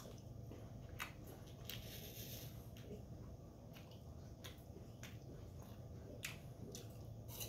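Crisp bites and crunches into an apple, a few sharp crackling snaps over a steady noisy background, close to the microphone.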